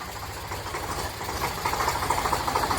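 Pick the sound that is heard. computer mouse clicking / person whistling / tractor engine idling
tractor engine idling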